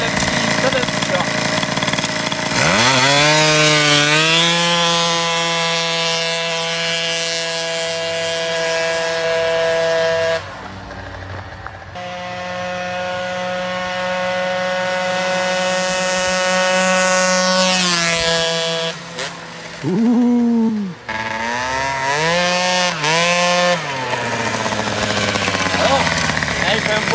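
A Booster scooter engine revs hard near the microphone in repeated long throttle sweeps, pitch climbing and holding before dropping back, with brief pauses between pulls and people talking faintly underneath.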